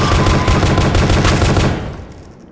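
Rapid automatic gunfire in the horror game Pony Factory, a loud continuous burst of fast shots that cuts off and fades into silence near the end.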